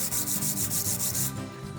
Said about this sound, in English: So let's begin hours of hand sanding.